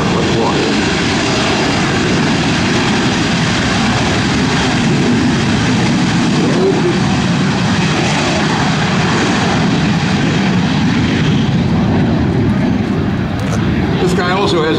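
Art Nalls' jet aircraft at the 2011 NAS Patuxent River Air Expo rolls for takeoff on a warm, humid day, its engine a loud, steady, broadband roar that holds constant throughout, with crowd chatter faintly beneath.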